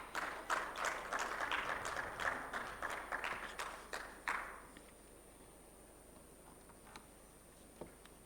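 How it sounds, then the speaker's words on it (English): An audience at a microfinance tech summit claps for a speaker walking up to the stage, a fairly faint, steady patter of applause that fades out after a few seconds into quiet room tone. "May we please give him a round of applause as he walks up to the stage."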